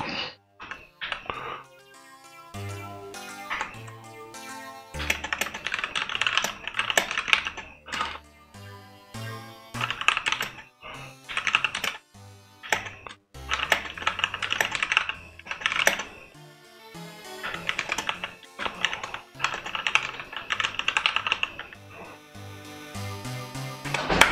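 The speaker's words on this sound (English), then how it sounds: "I don't know why my typing is lagging." Keys clatter on a computer keyboard in uneven bursts of close, crisp typing with short pauses between runs.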